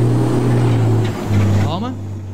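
Euro Truck Simulator 2 truck engine drones steadily, dips briefly as the gear drops, then rises again into a higher rev pitch, with someone talking excitedly over it.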